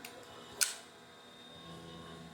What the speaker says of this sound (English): And go ahead and lock your bolt back.